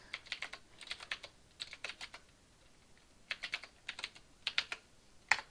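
Bursts of crisp clicking keystrokes on a computer keyboard, close and clear, arriving in short irregular clusters separated by brief pauses, with no talk.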